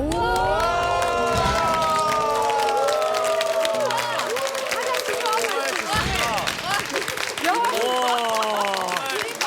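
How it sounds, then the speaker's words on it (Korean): A studio audience on a Korean variety health show claps and cheers for the team, a loud, dense wash of applause and excited shouts with voices over it throughout. "우리 팀 박수."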